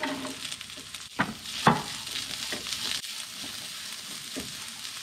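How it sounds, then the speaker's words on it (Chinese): Minced garlic, ginger and small silverfish stir-fry in a hot pan for a steamed beef bun filling, a steady close sizzle broken by a few sharp scrapes of the spatula. "接着放入蒜末、姜末，还有小银鱼末，翻炒一下。"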